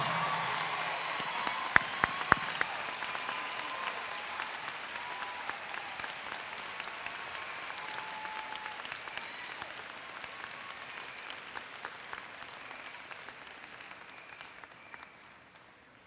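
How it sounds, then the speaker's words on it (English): Steady applause from a crowd at a high school graduation, loud at first with a few sharp claps near the start, then gradually fading over about fifteen seconds. "Let's all give her a round of applause."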